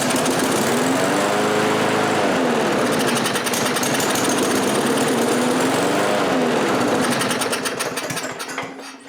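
A Briggs 3.5HP lawn mower engine with a Pulsa Prime carburetor, left sitting unused, catches and runs at a rough, rapid chatter close by, its pitch wavering before it sputters and dies out.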